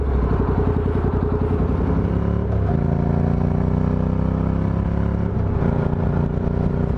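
A Honda CTX motorcycle on a foggy morning road, its engine droning loud and close with rising pitch through two gear shifts as it accelerates, under steady wind roar.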